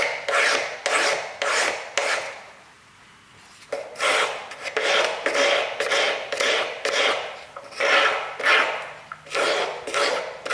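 Sandpaper rubbed back and forth over a cast fountain pen part, preparing it for polishing, giving close, loud rasping strokes in a steady rhythm with a short pause early on and no talk.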